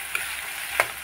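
Snails frying in a pan make a soft, steady sizzle with two brief sharp ticks of the utensil, heard up close and fairly quiet.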